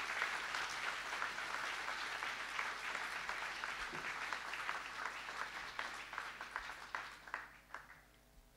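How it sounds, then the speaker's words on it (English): A school audience at an amateur radio contact event with an astronaut claps in sustained applause, dense and fairly distant, thinning into scattered individual claps toward the end. "Let's give a round of applause for that"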